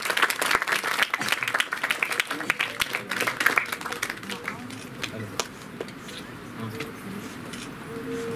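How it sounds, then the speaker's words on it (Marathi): Loud audience applause at a prize distribution ceremony for a state-level drawing and colouring competition, dense clapping throughout that eases slightly toward the end, with an announcer's voice over it. "जोरदार टाळ्या वाजवा."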